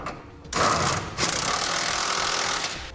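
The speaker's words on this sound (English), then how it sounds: "Now we'll tighten up our 3/4 inch bolts using a 1 1/8 socket." A power tool driving a 1 1/8 socket to tighten 3/4 inch bolts while installing a gooseneck trailer hitch on a 2008 Ford F-450, two loud bursts of rapid mechanical whirring, the first short and the second sustained.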